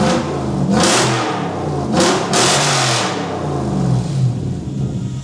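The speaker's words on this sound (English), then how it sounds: "Kind of want to start it and see what it sounds like with just the Y pipe and the T resonators." A Toyota 1UZ V8 swapped into a farm truck revs with only a Y pipe and T resonators on the exhaust. The engine runs loud and close throughout, with repeated throttle blips rising and falling over a steady rumbling idle.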